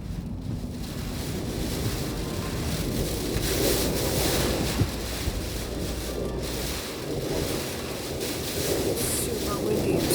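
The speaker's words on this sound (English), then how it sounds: "Super windy and super cold." Strong wind buffeting outdoors on a cold, rainy road trip in Iceland, loud continuous gusty roar with heavy low rumble from the microphone, surging and easing over several seconds, with faint voices underneath.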